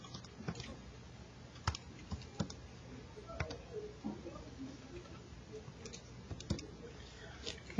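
Calculator buttons are pressed in quick, irregular light clicks and taps over a quiet room hum, used while checking algebra work.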